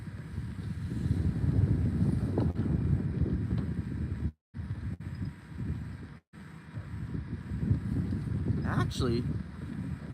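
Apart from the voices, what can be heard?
wind blowing on the Ohio river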